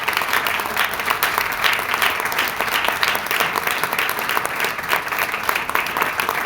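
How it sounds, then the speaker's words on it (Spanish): A church congregation claps loudly and steadily during a worship service, a dense, continuous burst of applause from a full room with no break in its rhythm. "Dale un aplauso fuerte al Señor."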